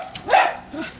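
A dog outdoors by a street gives one short bark followed by a softer, quieter yelp, close and brief.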